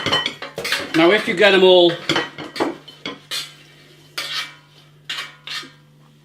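Hot Hula Hoops potato snacks, BBQ beef and original salted, clatter onto a plate in several separate bursts, sharp close rattles between stretches of talk.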